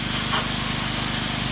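Close, loud pressure washer spray hissing steadily against cedar siding, a continuous broadband rush with a low pump hum underneath, no talk.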